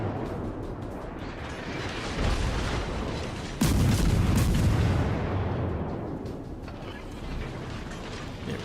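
Naval guns fire in World of Warships during a match, a loud roaring blast rising out of a dense rumbling battle background, followed by lingering mechanical rumble.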